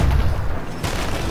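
Cannon fire in the pirate ship game Sea of Thieves, deep booming blasts from ship battles, loud and close with a heavy low rumble and a sharper second burst after a short lull.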